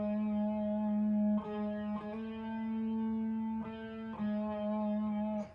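Distorted electric guitar playing a short sustained fill from a song, held notes shifting pitch a few times with slides and bends, loud and close with effects and reverb, no talking.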